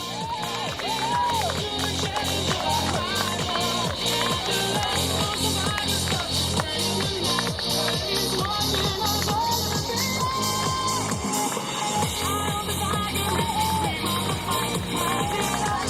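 Spectators at a swimming race keep up a continuous wash of cheering, whoops and scattered clapping, loud and steady throughout with a bright echoing crowd roar.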